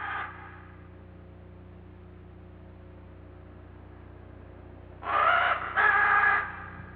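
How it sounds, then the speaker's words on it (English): Scarlet macaws flushed from roosting ledges on a rain forest cliff give two loud, harsh squawking calls near the end, after a brief call at the start over a steady low hum. "However, Bob disturbs some beautiful scarlet macaws from roosting ledges on the cliffs."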